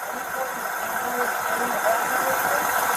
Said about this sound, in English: there's some type of rattling, it sounds like, over in here, and then there's obviously your engine